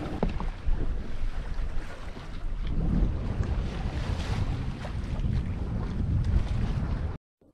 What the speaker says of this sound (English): we're heading upwind. So we've got the mizzen, the mainsail, and the little staysail jib flying